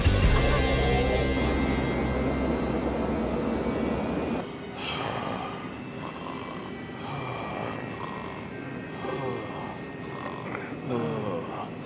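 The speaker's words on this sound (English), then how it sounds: "Stop this plane!" A cartoon airplane engine drones loudly at first, then shifts to a rougher, pulsing roar with rhythmic surges, continuous throughout without speech.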